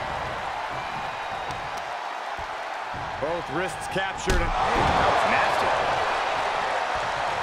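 Arena crowd noise from the WWE 2K22 wrestling video game during a tag-team match, a loud sustained roar that swells midway through, with thuds and slams and a commentator talking over it.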